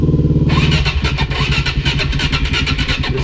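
A 2015 Suzuki DRZ400SM motorcycle starts after a brief starter whir and settles into a loud, close, rapid single-cylinder thumping idle, with no voices over it.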